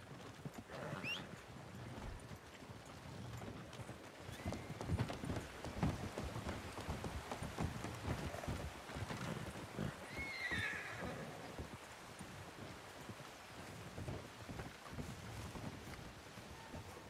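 Video game horses whinny and hooves clip-clop at a trotting pace, with a soft steady wash of ambient noise underneath throughout.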